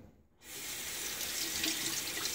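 A running tap pours water over fingers being rinsed during a wet shave, starting abruptly after a brief silence and flowing steadily and close.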